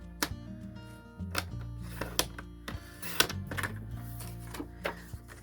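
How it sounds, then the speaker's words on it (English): A paper trimmer slices designer series paper in a crafting setup, a run of sharp clicks and short scraping cuts spaced irregularly, close and fairly soft, with a voice speaking between them. "Bringing in this DSP again, I'm going to cut it down at 1 on the top"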